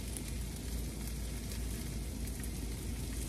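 Corn kernels and a pinch of salt hit a hot pan for roasted pumpkin tacos, giving a steady, even sizzle that holds at one level throughout with no talking.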